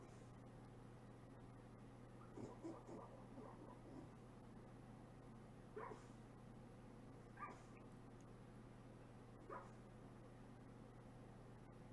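A dog barking in its sleep gives soft, muffled woofs and yips, a handful of scattered short bursts over a low steady hum, faint and close in a quiet room.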